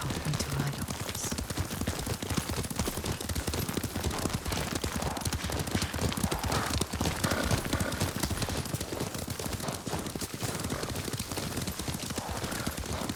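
A horse ridden at a steady pace in Ghost of Tsushima Director's Cut, with dense, continuous hoofbeats close and loud throughout and no talk over them.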